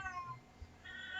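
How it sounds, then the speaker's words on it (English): A house cat meows faintly in the background, a couple of short, soft mews in an otherwise quiet room. "I don't know if you can hear my cat meowing in the background"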